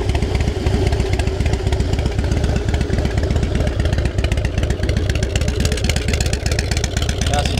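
A Harley-Davidson Softail Fat Boy FLSTF with 31,458 miles runs close by, its engine idling in a loud, steady, rapid lumpy rumble throughout.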